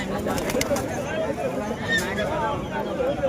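Pigeons coo in low, rolling calls amid a busy crowd at the Beldanga pigeon market, with voices murmuring throughout.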